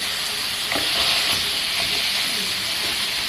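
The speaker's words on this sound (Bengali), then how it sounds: "এই মশলার মধ্যে মাছের মাথাটাকে আমি ভালো করে না ভাইয়া একটু ভাইজা নিতে আসি" Fish head frying in hot oil with salt, turmeric and cumin powder for a Bengali-style dal, a steady loud sizzle and hiss with occasional stirring scrapes throughout.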